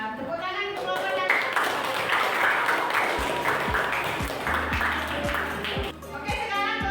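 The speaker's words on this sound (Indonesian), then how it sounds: "Tepuk tangan untuk kelompoknya." Students in a classroom applaud a presenting group, brisk clapping from a small room under a talking voice, with a few sharp knocks near the end.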